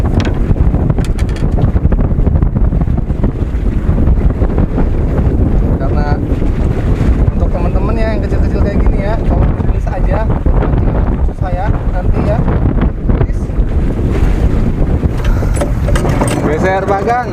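Strong wind roars steadily across the sea near a fishing platform, buffeting loudly and continuously with voices talking under the gusts.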